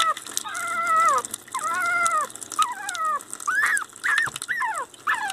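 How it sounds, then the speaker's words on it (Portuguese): A Pinscher puppy cries during its first bath, giving repeated high, wavering whimpers and yelps in close bursts with brief pauses between them. "Não chora não, Lara."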